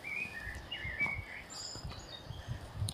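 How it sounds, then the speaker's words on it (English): Thin high chirps and short bird calls flutter over low rumbling background noise in a park near a duck pond, scattered and moderately faint. "Hear all the birds, Tobes?"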